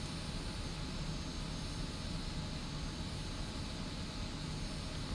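An F-86 Sabre jet in the DCS flight simulator making a flyover before breaking into the landing pattern, heard as a steady, loud, unbroken engine roar and rush that fills the whole stretch with no talk over it.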